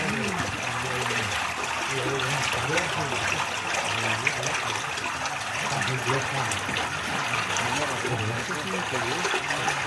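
Zarafshan river water flowing in a steady rushing wash that runs the whole way through, with people talking over it.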